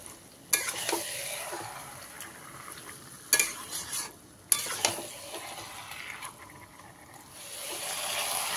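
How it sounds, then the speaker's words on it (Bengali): Chicken frying with spices in a pan for a potato chicken curry, stirred with several sharp spoon scrapes and clinks over a steady, fairly quiet sizzle. "মাংসটা এইভাবে আমি ভালো করে কষিয়ে নিচ্ছি।"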